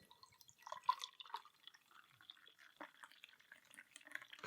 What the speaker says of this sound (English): we're going to pour carefully into my AF Beer Club glass